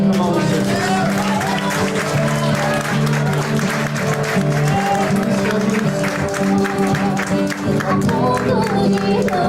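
A church congregation applauds continuously, loud and close, with dense clapping and crowd noise while a voice speaks over it.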